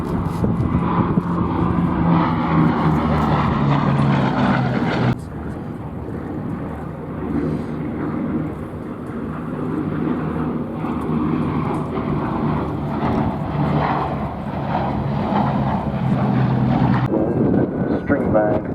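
A Fairey Swordfish biplane flies past at an airshow, its engine producing a steady, broad drone that rises and falls slightly. Commentary carries over a public-address system throughout.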